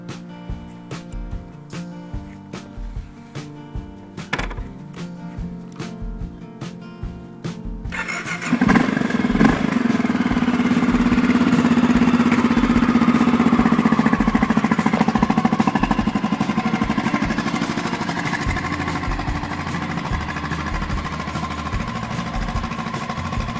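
A motorcycle with the choke applied starts up after a stretch of quiet clicking and fiddling, then settles into a steady, loud, close idle that keeps running to the end.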